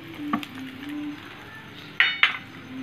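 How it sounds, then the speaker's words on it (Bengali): Panch phoron spices sizzle in hot oil in a pan, making a soft, quiet crackle. A few sharp utensil clinks against the pan come near the end. "এই দেখুন, এখন এই পাঁচফোড়নগুলো ফুটে উঠেছে,"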